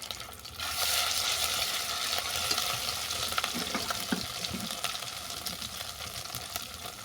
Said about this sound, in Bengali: লঙ্কাটা ভালো করে ভেজে নেওয়ার পর দিয়ে দিচ্ছি বাটা মশলা